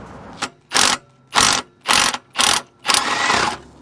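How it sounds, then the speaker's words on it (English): Bolts come off the rear flange of a Ford Focus Mk1 1.8/2.0 breather box as a tool whirs in six loud, close bursts separated by short pauses, the last burst running longer. "we're going to undo the bolts at the back of the flange"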